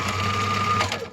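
A sewing machine hums steadily as it stitches fabric for a face mask, a close, continuous whirring buzz that slows and stops at the end.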